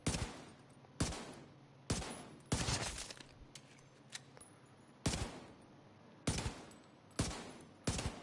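Desert Eagle .50 caliber pistol fired in The Division 2, seven loud sharp shots spaced about a second apart, each with a short ringing tail, no talking.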